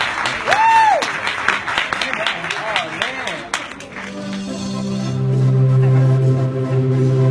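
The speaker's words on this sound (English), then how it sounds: "let's give a big round of applause for our speaker." An audience applauds a speaker at a talk, clapping loudly at first, then fading as a low sustained tone takes over toward the end.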